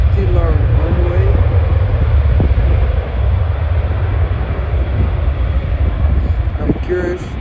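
An Airbus A320 airliner passes at Schiphol airport, its broad engine roar steady and loud through the clip, with wind buffeting the microphone and someone talking over it.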